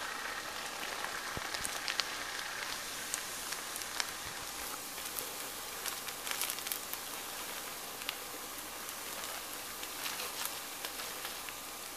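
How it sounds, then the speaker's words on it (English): Onions frying in a pot for egusi soup while being stirred constantly, giving a steady, dense sizzle and crackle throughout with faint scraping and occasional soft pops, nothing else over it. "Constantly turn the onions and everything else so nothing sticks to the bottom."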